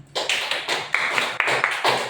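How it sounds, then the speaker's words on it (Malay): A classroom of students clapping their hands together in a short rhythmic burst of several sharp, close claps. "Tepuk tangan."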